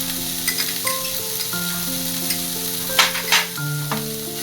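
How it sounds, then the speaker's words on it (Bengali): Grated paneer is stirred through a gently sizzling pan, with soft scraping and stirring strokes over a steady low frying hiss and a couple of sharper clinks near the end. "গ্রেটেড পনিরটা এর সাথে ভালো করে একটু মিশিয়ে দেবো।"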